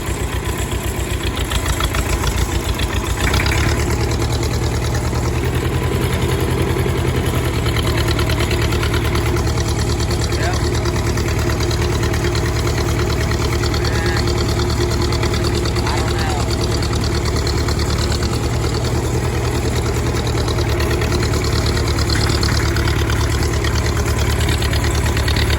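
A tractor engine labours steadily up a hill in high gear, a constant loud mid-pitched drone with a knocking, chugging pulse that never lets up.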